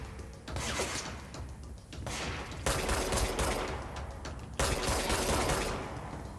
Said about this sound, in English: Time to shoot people.